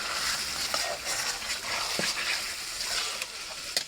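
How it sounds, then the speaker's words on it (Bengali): Chicken pieces being stirred with spices in a pan over a clay stove, giving a steady low sizzle with soft scraping strokes throughout. "ভালোভাবে এখন মশলার সাথে মিশিয়ে নেব।"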